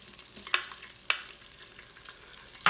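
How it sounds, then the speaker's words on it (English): Garlic drops into melted butter in an Instant Pot and sizzles softly and steadily, with a few sharp clinks of a utensil against the pot, close by and with no talking. "Now our butter is almost completely melted down, so we're going to be adding our garlic"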